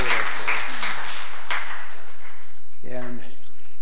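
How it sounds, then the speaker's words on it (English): Church congregation breaks into loud applause welcoming a newly baptized child, the clapping strongest at first and thinning out, with voices speaking over it. "Let's welcome her with our applause."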